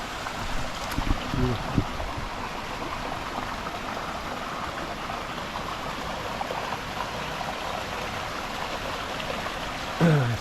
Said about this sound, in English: let's see here if we can catch the beginning of the waterfall